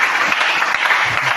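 A church congregation applauding the Lord at a Sunday healing service, a brief burst of dense, even clapping from a crowd, loud and close, with no speech over it.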